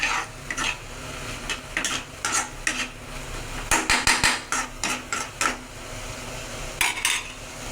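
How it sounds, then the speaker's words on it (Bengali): Spice paste for a fish curry is stir-fried in oil, with repeated rhythmic scrapes and clatters of a spatula in the pan over a soft, continuous sizzle, no voices. "মশলাটা কষতে থাকুক"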